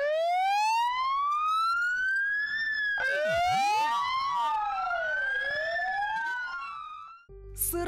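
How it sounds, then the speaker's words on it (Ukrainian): Several ambulance sirens wail together in a noon protest in Ukraine, their rising and falling tones overlapping loudly for several seconds before cutting off abruptly. "Сирени на швидких вмикаються рівно о 12-й по всьому місту і по всій Україні."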